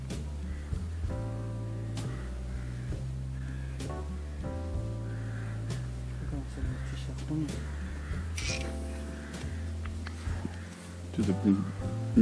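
Crows cawing around a pond in the Kursk region on an evening fishing trip, a few harsh calls at middle distance over steady low outdoor noise, with occasional voices nearby.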